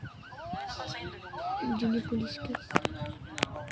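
A police siren in the Roblox game Brookhaven wails in rising and falling sweeps under a young voice talking, with sharp clicks and bangs near the end.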